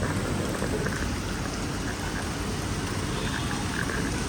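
Heavy rain pours down steadily, a dense continuous hiss of drops drumming on surfaces with no voices.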